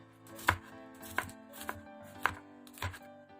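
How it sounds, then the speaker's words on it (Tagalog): A knife chops garlic, half a head, on a board for stewed milkfish in miso, striking in five distinct, sharp knocks roughly every half second, close and clear with no talk. "Isunod naman natin hiwain ng bawang."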